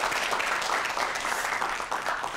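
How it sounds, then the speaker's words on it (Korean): A studio audience claps for a professor on a television talk program, a moderate, continuous patter of many hands held at a steady level throughout. "장경윤 교수님께 다시 한번 큰 박수 보내주세요"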